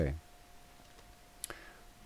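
A single soft mouse click on an OK button while a remote-access plugin is installed, landing near the middle after a brief thump at the start, over a low steady hum.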